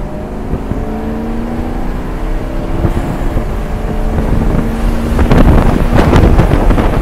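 A 2018 Maserati GT Sport accelerating hard in sport mode, the engine tone rising steadily through the gears with wind buffeting, growing louder and rougher toward the end, with no talk.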